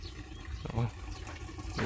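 A solar-powered pump draws groundwater up into a tank, producing a steady gush of running water and filling sounds while someone speaks over it.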